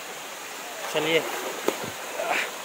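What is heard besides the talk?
waterfall on Baratang Island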